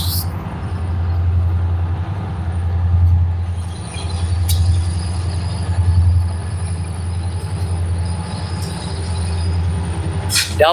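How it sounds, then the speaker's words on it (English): A freight train with two locomotives, one pushing and one pulling, rumbles steadily past at close range, its deep engine drone and wheel noise holding loud and continuous with a faint squeal near the end. "Double engines on that one pushing and one pulling."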